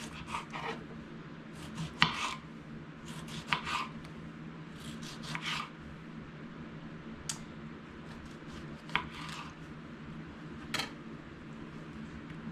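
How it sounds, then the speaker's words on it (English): A knife slices through tomatoes in a home kitchen, giving a series of short, soft cutting and rasping strokes in irregular bursts over a quiet background. "first, you want to get your tomatoes. You want to slice them."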